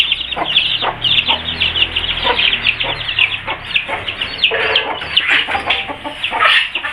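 Young chicks just moved into a new cage, clucking and peeping busily in a dense, continuous chorus of high, overlapping calls, close and loud throughout, with no voices.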